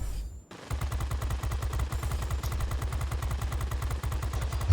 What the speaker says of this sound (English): That goes down under the machine guns very nicely as well